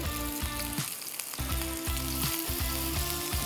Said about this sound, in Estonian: jätame siia nüüd praadima